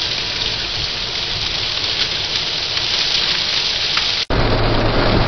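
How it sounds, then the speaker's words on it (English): Torrential rain and wind from Hurricane Ivan in Gulf County, a dense, loud, steady roar of downpour that holds throughout with one brief dropout near the end. "The weather is torrential here in Gulf County."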